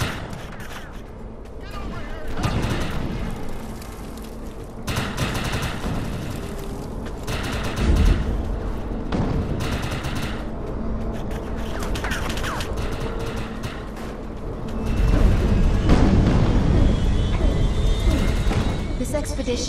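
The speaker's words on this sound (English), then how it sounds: "Who are they shooting at?" Rapid, dense gunfire and heavy impacts rattle on and off in the video game Defiance, with louder bursts near the end and a voice speaking over the shooting.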